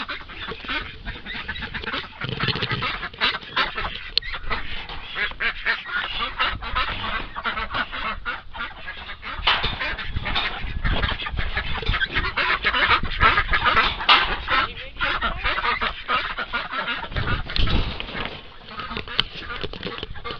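A flock of ducks being let out of their pen quack and honk loudly and nearly nonstop at close range, a dense overlapping chorus that keeps going throughout.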